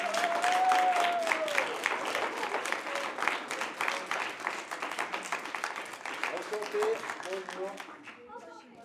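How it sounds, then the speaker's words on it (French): A television studio audience applauds for an arriving comedian, dense steady clapping that fades gradually, with a brief voice heard over it near the end. "sous un tonnerre d'applaudissements"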